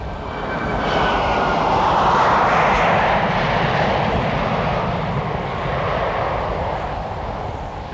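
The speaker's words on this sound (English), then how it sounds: "The well-loaded aircraft again displays its sprightly takeoff and steep initial climb." A heavily loaded de Havilland Comet 4 jet airliner with Rolls-Royce engines roars loudly during takeoff and steep climb, a broad sustained jet rumble and whine that swells and then slowly eases.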